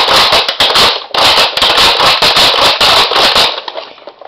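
A modified Nerf Deploy blaster firing rapidly, a loud burst of sharp, fast repeated pops in quick succession, close, breaking off into a softer tail of clicks.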